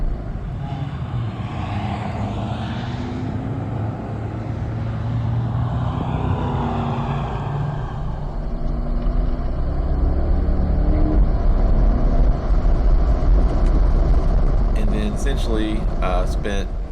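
Chevrolet Corvette C8 rolling onto a race track during a paced-lap session, a steady engine drone with rising and falling tones and wind rush, heard from inside the car with talking over it.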